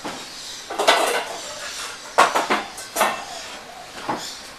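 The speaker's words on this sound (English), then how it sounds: "I'll just get a pan started for it." A cooking pan is set down on a kitchen stovetop, giving a few close, hard clanks and knocks in two short clusters, with no talking.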